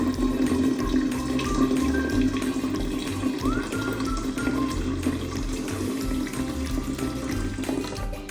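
Liquid for home-brewed kombucha splashes and runs steadily as it is poured into a jar with a loose lid, a continuous watery rush with a low hum beneath, no talking.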